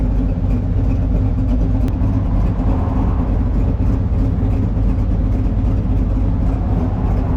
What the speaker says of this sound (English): it does a whole lot of popping on decel.